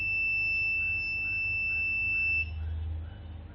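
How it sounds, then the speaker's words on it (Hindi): A wireless RF module alarm kit sounds a continuous high-pitched electronic tone, steady and loud, that cuts off partway through, leaving a faint low hum. "ये हमने बटन प्रेस किया और ये एक अलार्म बज रहा है, कंटिन्यूस अलार्म बजता चला जाएगा।"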